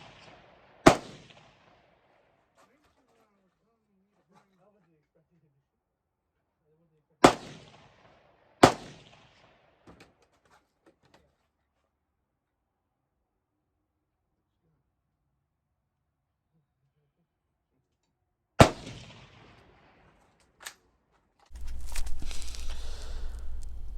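A Zastava ZPAP M90PS rifle fitted with an optic fires four sharp, loud shots spaced seconds apart, each with a short echoing tail over near-silence, followed by rustling handling noise at the end.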